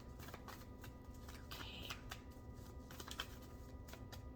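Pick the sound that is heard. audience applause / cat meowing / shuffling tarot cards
shuffling tarot cards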